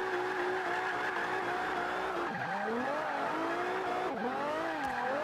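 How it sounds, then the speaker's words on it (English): Toyota Celica front-wheel-drive drift build in Forza Horizon 5 holding its engine near the rev limiter in a steady high whine, with tire squeal and two brief dips in pitch as revs drop and climb back. "when I'm on my power, I've always got my revs maxing out."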